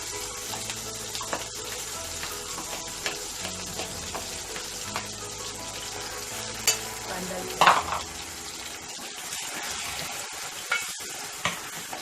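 Fish masala for a Konkani-style fish curry being stirred and fried in a pan: a steady low sizzle with intermittent scraping stirs, one louder clatter near the middle, no talking.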